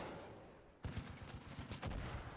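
Machine-gun fire in the video game Far Cry 5, a rapid stream of loud bursts starting abruptly and rattling on steadily for over a second, with no talking over it.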